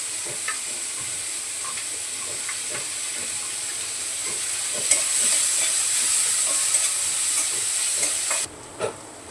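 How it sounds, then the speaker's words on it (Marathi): Finely chopped onion and tomato sauté in a little oil, giving a steady close hiss and sizzle with faint scraping stirs, continuous throughout and briefly louder partway, then cutting off near the end. "यामध्ये बारीक करून घेतले ते परतून घेते चांगलं."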